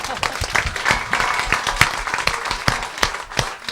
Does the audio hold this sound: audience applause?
yes